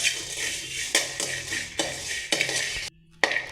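Asafoetida roasts in a pan while being stirred, a bright sizzle and hiss layered with repeated scraping clinks of a utensil against the pan, close and loud, with one brief pause near the end.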